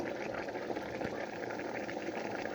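Water boils steadily in a steamer for puto bumbong, a continuous bubbling rumble with faint hissing, moderately loud and close, with no one speaking.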